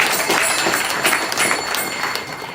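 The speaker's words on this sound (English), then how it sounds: "let's give her a round of applause as well" An audience at a Radhastami Namahatta programme in La Mercy claps together in a loud, continuous burst of applause, close and steady before tapering slightly at the end.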